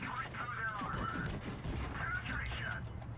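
A tier 9 tank in WoT Blitz fires HESH shells, giving a few heavy cannon reports amid mechanical clanks and engine rumble, fairly loud and close.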